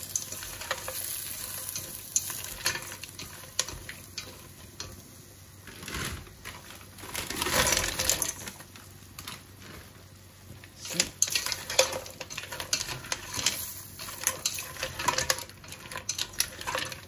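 A prepared mixture sizzling in a pan while being stirred, a steady frying hiss broken by scraping utensil strokes and clinks against the pan, close-up, with louder bursts in the middle and near the end.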